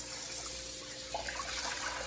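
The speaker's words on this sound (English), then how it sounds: "as the water is running on it, I'm rinsing" Tap water runs steadily over seitan dough as it is rinsed in a second washing of flour, a constant soft hiss with small splashy variations, close and alone without speech.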